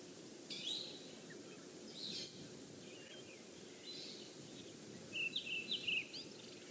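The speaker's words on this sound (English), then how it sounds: "Can hear some brown-headed parrots flying over her head." Brown-headed parrots fly overhead in the bush, giving a few short, shrill, squeaky calls in scattered bursts, faint against a steady outdoor hiss and low ambient rumble.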